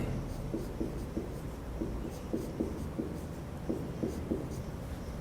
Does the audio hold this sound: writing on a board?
yes